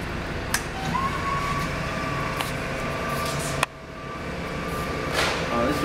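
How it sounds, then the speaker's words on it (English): A Terra Tugs Aerotug aircraft tug runs on its 12 V DC motor with chain-driven wheels, giving a steady whine that holds through the clip, with a pitch shift and clunk midway as it switches direction, under some background noise. "We're going to go ahead and turn it on and show you it goes forward and reverse"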